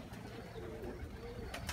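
Soft, low cooing of a pigeon in a loft, faint and muffled with some rustling around it.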